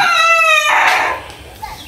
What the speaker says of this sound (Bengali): এই হচ্ছে আমার আম্মার মুরগি, এমন দুষ্ট মোরগ